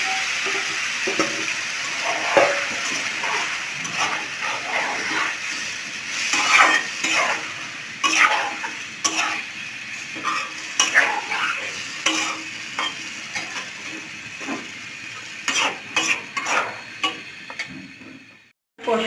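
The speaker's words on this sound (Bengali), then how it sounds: "একটা ভাজা হয়ে গেছে, এখন আমি মাছ দিয়ে দিয়ে দিচ্ছি" Fish frying in a pan as it is stirred, a continuous sizzle broken by repeated scraping and clinking strokes of the spoon, fairly close and heard alone.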